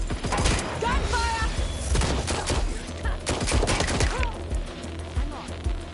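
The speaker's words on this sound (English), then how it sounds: "Gunfire." Gunfire in the video game Watch Dogs Legion: sharp, rapid shots and bursts crack in clusters over several seconds, mixed with clattering impacts and brief shouted voices.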